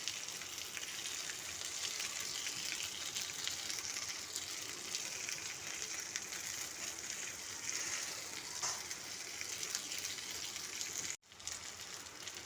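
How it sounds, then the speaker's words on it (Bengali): Chicken sticks kebab frying slowly in a pan over low heat, giving a steady, even sizzle and crackle that continues alone throughout, with one brief dropout near the end. "অল্প স্টিমে আস্তে আস্তে ভেজে নিতে হবে।"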